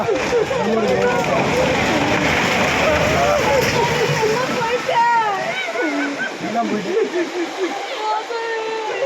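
A house in flooded Tirunelveli town collapses into floodwater, a loud rush and splash of water and debris sustained throughout, with excited voices shouting over it.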